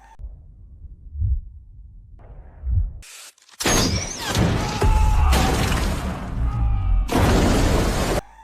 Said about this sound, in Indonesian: hingga terkena bom itu dan bom pun meledak